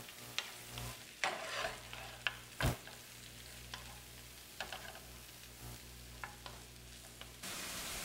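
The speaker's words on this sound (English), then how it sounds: "Now I'll place my mushrooms in the frying pan," Mushrooms sauté in canola oil in a frying pan, a steady close sizzle with sharp clacks and scrapes of stirring scattered throughout.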